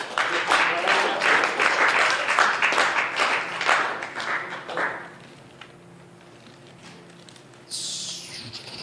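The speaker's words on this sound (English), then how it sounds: "big round of applause for Daniel Williams." An open mic crowd in a bar gives a round of applause, dense clapping for about five seconds that then thins and fades into quiet room noise.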